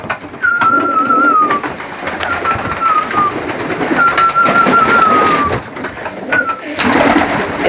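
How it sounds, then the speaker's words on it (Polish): Pigeons coo repeatedly inside a loft, with soft warbling calls in several bursts over steady background noise. "zobaczyliście moje ptaki"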